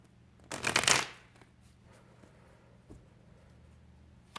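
A deck of tarot cards is riffled in one brisk, close burst of crisp fluttering. A couple of faint taps follow in an otherwise quiet room.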